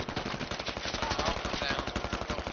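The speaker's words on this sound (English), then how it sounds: "Heads up, we're taking fire." Sustained automatic gunfire from a Squad video game match rattles in fast repeated bursts, loud and continuous and close up, with heavy reports that stack on top of one another through the whole stretch.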